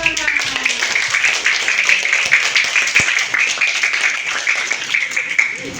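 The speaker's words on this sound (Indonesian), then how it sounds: "Tepuk tangannya, Bang." Steady crowd applause with dense hand clapping from a classroom group, sustained loud and even throughout, with no voices on top.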